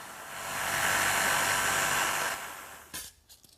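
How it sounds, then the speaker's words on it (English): A jigsaw cuts a slot in plywood for a shop-built clock case, giving a steady, close rasping hiss that fades out. A few light clicks and knocks follow. "I'll finish it with my jigsaw."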